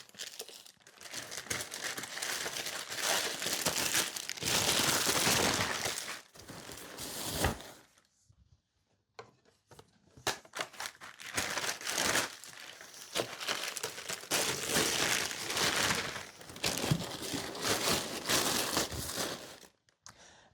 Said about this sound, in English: we're going to wrap these in paper. It's a wooden cover.